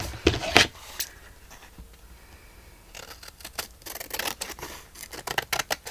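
Scissors trim the excess paper from a handmade journal belly band, giving several brisk close snips near the start and a flurry of quick cutting and paper handling toward the end, with quieter rustling between.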